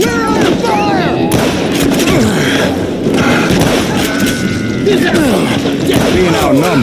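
Gunfire in Call of Juarez: Gunslinger, loud repeated shots and booming impacts crowding together in a dense, chaotic barrage, with voices talking in between.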